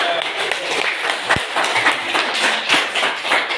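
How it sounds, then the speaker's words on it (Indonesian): Indonesian classroom during a teaching-practice lesson on addition and subtraction, filled with a dense, steady patter of hands clapping that holds for several seconds at moderate loudness with no voice over it. "kita tepuk tangan dulu untuk"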